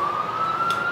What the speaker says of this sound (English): alright, we've got some sirens going on.